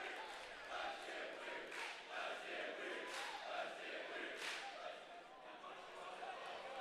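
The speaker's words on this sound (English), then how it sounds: "Student section really cheering on their own Michael Cannon right now." A student section cheers at a high school wrestling match between Catholic Central and Hartland, filling the clip with a sustained roar of crowd voices and shouts. The cheering is moderately distant and swells and dips over a few seconds.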